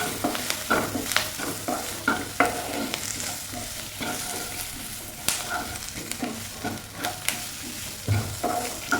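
Coconut paste with curry leaves frying in a pan, with a continuous soft sizzle broken by frequent scraping stirs of a spoon, close and fairly quiet.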